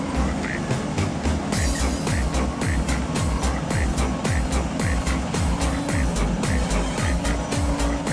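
A heavily loaded Chinese heavy truck creeps slowly down a steep hill with its hazard lights on, giving a loud, steady engine drone with a rhythmic pulsing that continues throughout.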